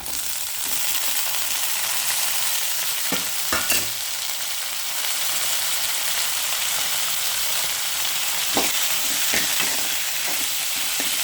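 Steady loud sizzling of sliced lotus stem frying with onions in a pan, with occasional stirring scrapes and clicks, close up and continuous, no voices.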